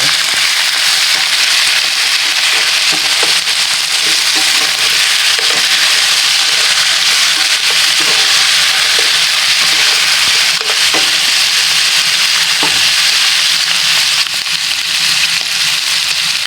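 Pressure-cooked beef for pochero sizzles loudly and constantly in a hot pan, with scattered clicks and scrapes as it is stirred, and no voices.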